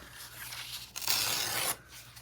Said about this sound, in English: I'm just gonna go ahead and I'm gonna trim that off.